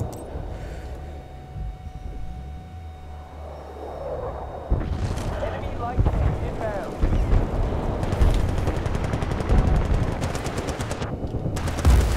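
Rocket blasts and gunfire in Battlefield: Bad Company 2, with a loud explosive impact followed by sustained bursts of automatic fire and further booms, while voices talk over the action.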